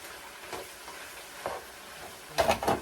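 Spaghetti sauce gets stirred in a pan, three short scraping, squelching strokes spaced apart, the last pair louder and closer together; no talking.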